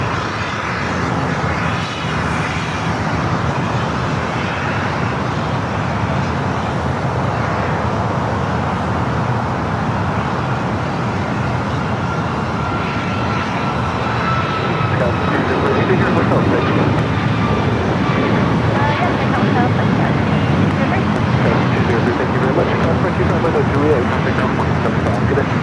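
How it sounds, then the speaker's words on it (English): A fixed-wing airliner takes off on the south side of LAX, its engine roar steady and loud throughout, building slightly toward the end, with someone talking over it. "next takeoff here on the south side"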